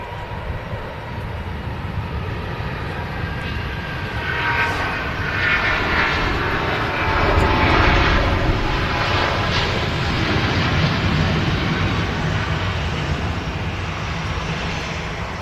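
Singapore Airlines jet with composite wings rolling for takeoff at Manchester Airport, a steady broad engine roar that builds and swells toward the middle, heard from a distance with no talk.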